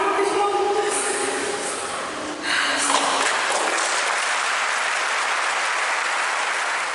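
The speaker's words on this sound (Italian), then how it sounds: "Un lungo applauso ha accolto il feretro di Annalisa all'uscita della chiesa" Mourners give a long applause as Annalisa's coffin is carried out of the church, steady crowd clapping that swells after a brief dip and continues, somewhat distant, over a faint murmur of voices.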